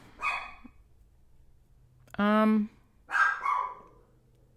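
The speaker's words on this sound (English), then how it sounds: "sorry about that barking." A pet dog named Bumble barks indoors, one loud sharp bark close by between short bits of a woman's speech.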